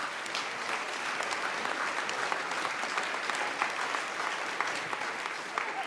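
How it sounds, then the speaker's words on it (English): A church congregation applauds steadily for several seconds after a homily, a dense even patter of many hands filling the room, with no talk over it. "Let's give him a round of applause."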